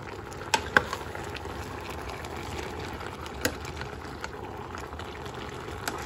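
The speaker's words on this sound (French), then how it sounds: "On va touiller pour voir." Mango compote cooking in a pot as it is stirred: a low, steady bubbling simmer with a few sharp spoon clicks against the pot, fairly faint throughout.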